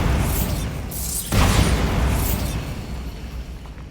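Bombarda blast spell in Hogwarts Legacy, a single loud booming explosion with a sharp burst followed by a rumbling decay, preceded by a magical shimmer.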